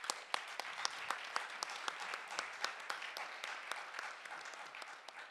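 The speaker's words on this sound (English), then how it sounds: "Can I please have a round of applause for that?" An audience at a women's empowerment conference applauds an honoree in a steady, even wash of clapping, with sharper individual claps standing out throughout, and no talking over it.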